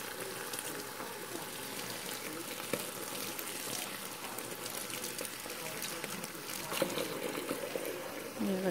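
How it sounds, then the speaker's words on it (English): Spinach leaves rinsed by hand under cold running tap water in a home kitchen, a steady splashing gush with small crackles and drips throughout, moderately close. "I'm just going to take a handful and just rinse them off real good."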